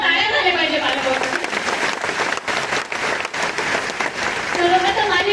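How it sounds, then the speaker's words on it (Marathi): Loud, steady applause from an audience honouring parents at a Marathi speech event, sustained clapping throughout with crowd noise. "त्यामुळे एकदा जोरदार टाळ्या झाल्या पाहिजे पालक वर्ग"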